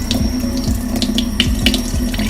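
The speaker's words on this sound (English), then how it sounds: "So now I will take the fish for a rinse." Tap water runs steadily into a sink while salmon is rinsed under it for deep-fried nuggets. The flow is close and continuous, with small splashes and knocks.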